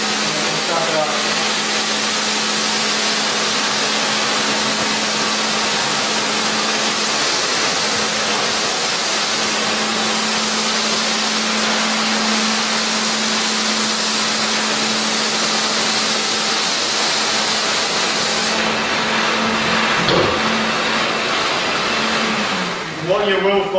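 A Columbus RA 43 floor scrubber-dryer runs with its suction on, laying water and vacuuming it up: a loud, steady motor roar with a humming whine, continuous and close, then cutting down near the end.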